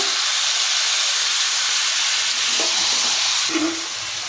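Chicken and yam frying together in a pan, a loud, continuous close sizzle and hiss with a few faint clinks of stirring.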